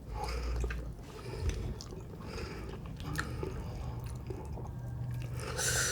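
Fried fish being chewed close to the mic, with soft, moist, squishy bites repeating steadily at low volume and no talk.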